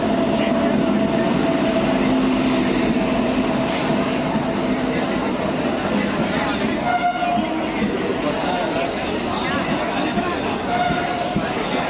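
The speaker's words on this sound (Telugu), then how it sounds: "ట్రైన్ స్టార్ట్ అయింది." An Indian passenger train with general coaches pulls out of a station, producing a continuous rumbling roar with faint metallic squeals and whines, while voices murmur in the background.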